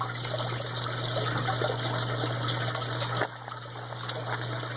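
Water rushes steadily through a Gold Webb jig tube while processing gold concentrates, a continuous close trickling flow with a low hum and a slight drop in level near the end.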